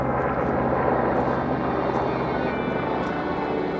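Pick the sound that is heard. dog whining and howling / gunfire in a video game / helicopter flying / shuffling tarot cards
helicopter flying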